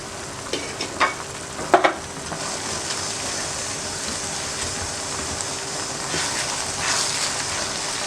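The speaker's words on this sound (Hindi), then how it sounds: "अब हमने इसको दूसरे हलवे की तरह ही भुनाई करके पकाना है।" Bread halwa roasting in ghee in a pan, a bright steady sizzle opened by a few sharp spoon scrapes and clatters, then a sustained hiss, near and without talk.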